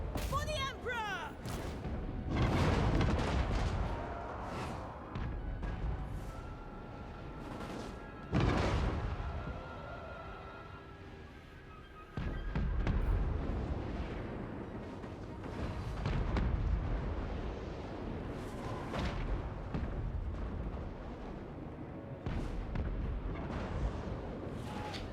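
Artillery in the video game Total War Warhammer 3 fires repeatedly, with heavy booms and rumbling impacts scattered across a busy battle soundscape, while a voice talks over it.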